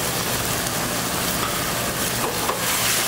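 Spicy cabbage stir-frying in a wok on a home stove, a steady loud hissing sizzle with faint scraping of the spatula, close and continuous, with no voices.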